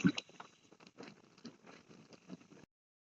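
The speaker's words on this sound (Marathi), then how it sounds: "दापोलीला पाऊस पडतोय" Soft, irregular pattering of rain, close and fairly quiet, with scattered light taps and no voices.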